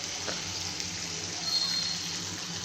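Rinse water is poured into a pan of Andhra-style chicken pepper fry, a steady gushing hiss lasting under three seconds with no voices.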